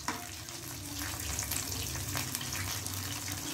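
Fish fingers fry in hot oil in a home kitchen, giving a steady dense sizzle with soft crackles and no talking.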